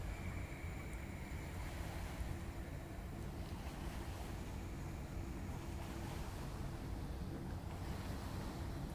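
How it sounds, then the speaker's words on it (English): Steady wash of East River waves from passing boats lapping, mixed with wind rumble on the microphone, continuous and even with no voices. "I'm actually by the East River, and some boats are going by. It's creating some waves"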